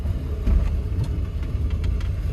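A 1984 Volvo 240 engine with ignition pinging bucks under throttle, a loud, close, low rumbling drone with uneven surges and jerks.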